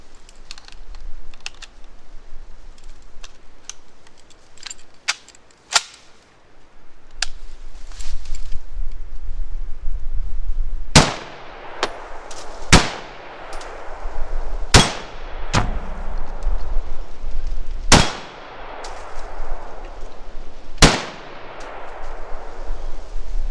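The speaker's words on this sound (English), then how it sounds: "So I'm going to load this up into this M1 Garand and see how she works." An M1 Garand rifle fires 7.62x51 NATO rounds, a string of sharp, loud, close reports at irregular intervals following quieter metallic handling clicks.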